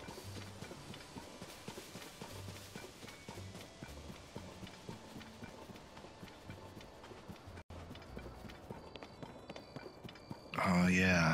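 Horse hooves clip-clop in steady, evenly spaced steps in The Legend of Zelda: Tears of the Kingdom, moderately loud over game music, ending in a brief burst of louder game sound.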